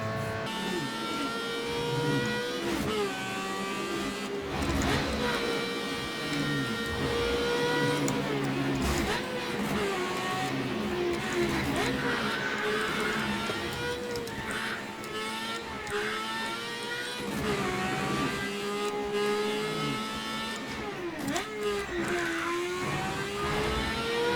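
The Toyota Corolla engine in the racing game Need for Speed Underground 2 drones steadily and loudly throughout, its pitch repeatedly climbing and dropping through gear changes as the car accelerates.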